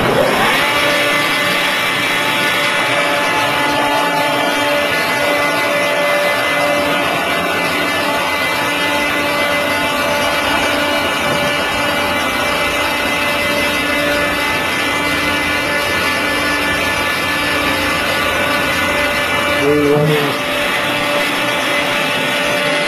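A 4-post hydraulic molding press runs with a steady, loud mechanical drone and hum throughout, with a brief shift in tone near the end and no voices.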